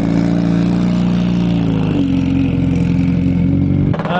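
Ken Block's 2011 Ford Fiesta, a car built on a European Rallycross Championship racer, holds a loud, steady engine drone close to the recorder, its pitch stepping down about midway and then flaring up sharply near the end.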